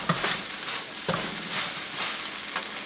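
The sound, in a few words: beef fried rice with egg being stirred in a wok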